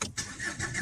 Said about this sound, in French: On démarre. On laisse tourner un peu le moteur.